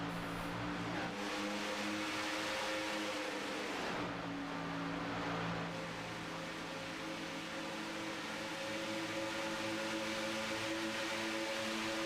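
Stock cars racing on a superspeedway in iRacing, with a sustained loud engine drone that sags briefly as a car flashes by before the steady roar returns.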